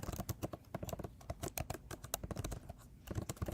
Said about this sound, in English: Is my typing still loud? It's so loud.